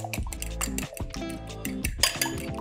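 Fresh eggs being mixed into spiced, salted milk in a bowl, a metal utensil clinking steadily against the bowl sides in a rapid, near, moderately loud rhythm with small liquid sloshes.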